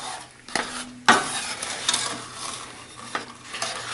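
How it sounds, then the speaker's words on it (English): A wooden spoon stirs a brown sugar and maple toffee mixture in a pot, with a few sharp knocks against the side and soft scraping between them, close and alone. "gently stir everything up"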